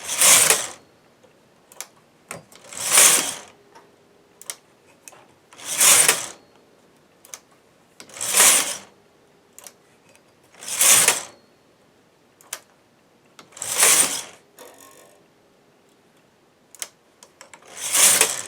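A knitting machine carriage for 4.5 mm machines swishes back and forth in regular sweeps while short-row decreasing on a sock, each pass a loud rasping whoosh separated by brief pauses and small clicks.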